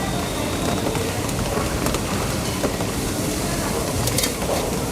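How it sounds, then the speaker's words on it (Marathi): Heavy rain pours down in a dense, unbroken hiss that stays even and loud throughout, with no voices. "खूपच पाऊस आहे"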